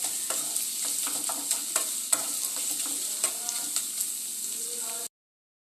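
Chicken keema sizzling in a pan as a spoon stirs and scrapes through it, with steady loud frying hiss under repeated clacks and scrapes of the utensil, close up and continuous before stopping abruptly.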